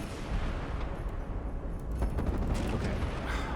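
Massive artillery barrage hitting an airship in the strategy game Highfleet: a continuous low roar of heavy gunfire and impacts, with a cluster of sharper cracks building midway and persisting to the end.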